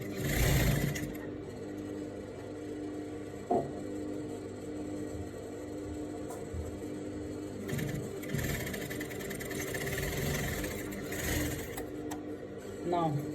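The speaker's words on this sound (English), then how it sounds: "So I'm going ahead to sew." A sewing machine runs steadily and close while stitching a clean seam on a client's dress with dramatic sleeves, with a voice speaking over the whirring motor.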